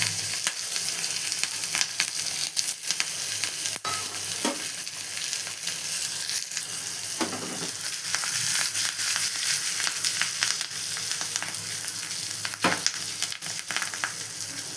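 Chopped ginger, green chillies and curry leaves sizzle in hot oil as a tempering for curd rice prasadam. The frying hiss is close, loud and steady, with occasional stirring clicks and crackles and no talk.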